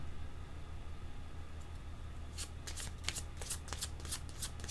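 Tarot cards being shuffled in a series of quick riffling bursts that begin partway through and repeat over the second half, close and clear above a steady low background hum.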